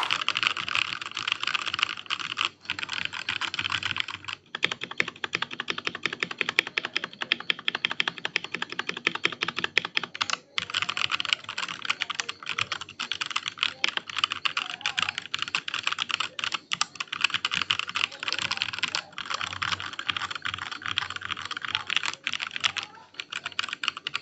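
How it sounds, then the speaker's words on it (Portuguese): Steady, continuous clatter of keystrokes on a Machenike K500-B61 mini mechanical keyboard, close and clear, with a few brief pauses and no talking. "Bora aí para o ASMR desse teclado"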